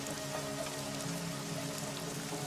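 Steady rain falls throughout, a dense continuous patter with no talking and no breaks.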